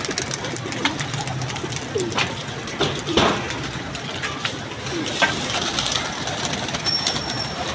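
Pigeons coo softly and flutter down to land close by amid steady outdoor background noise, with occasional faint knocks and a distant engine hum.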